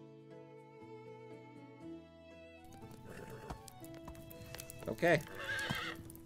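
In Medieval Dynasty, a horse gives one loud, sharp neigh after hooves clop over quiet music, with a brief spoken word from a player just before.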